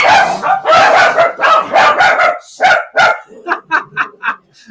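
Several dachshunds at a rescue bark loudly and excitedly up close, dense overlapping barks giving way to a run of sharper, higher yips.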